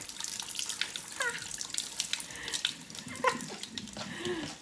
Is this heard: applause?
no